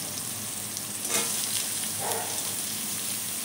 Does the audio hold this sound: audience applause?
no